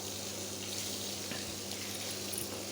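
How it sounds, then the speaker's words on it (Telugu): Water running from a hose pipe onto a doorstep being washed early in the morning, a steady close rushing and splashing that continues without a break and with no voices. "పైప్ తోటి మంచిగా వాటర్ పట్టేస్తాను"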